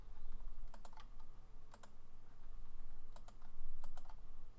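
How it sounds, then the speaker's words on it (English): Clicks from a computer mouse's left button, crisp and close, arriving in pairs at several points with a steady low background hum beneath. "I'm just clicking once now with the left mouse key."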